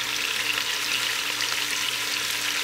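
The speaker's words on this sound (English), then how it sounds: "And go ahead and just let your meat sear through." Pork searing in a hot pan for keto chile verde, giving a steady, dense sizzle that holds evenly for the whole stretch with no talking.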